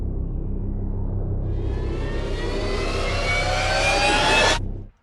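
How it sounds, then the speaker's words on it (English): Sound-design riser for an animated scene, a rising swell of tones climbing steadily over a sustained low drone, growing loud and bright before cutting off abruptly near the end. "And then we have a drone in the low end here that just sets the tone for the whole scene."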